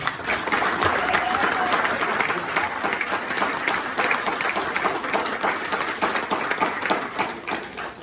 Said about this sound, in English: We can give him a round of applause, please.